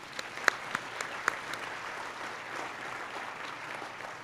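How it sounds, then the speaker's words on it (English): An audience at a State of the City address applauds the mayor, faint and distant clapping with a few sharper individual claps near the start, continuing at a low, steady level without speech. "A big round of applause again for our mayor."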